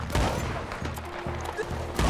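Sharp gunshots crack in a rapid volley in Red Dead Redemption 2, several bursts in quick succession with a gritty mechanical background hum.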